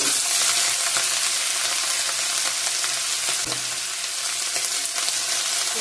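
Cauliflower, potato and cabbage frying in a pan for vegetable khichuri, with a steady loud sizzle and occasional stirring clatter throughout, no talking.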